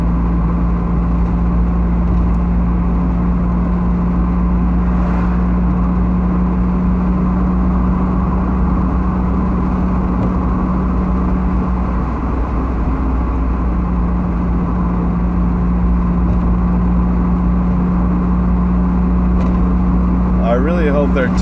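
A Mazda Miata drives along with a steady low engine drone and road rumble that holds for the whole stretch, with occasional faint clicks and someone talking over it.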